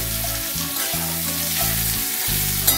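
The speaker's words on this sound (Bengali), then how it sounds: "একটু ভালো করে ভেজে নেব পেঁপেটা" Papaya pieces frying in a kadai, a loud continuous close sizzle with a steady hiss, a low hum underneath and a brief clink near the end, no voices.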